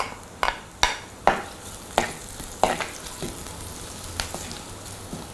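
Onions and green chilies fry in a pan for an okra stir fry, with a sizzling hiss punctuated by several sharp clattering stirs or additions early on, then a softer continuing sizzle, close and moderately quiet.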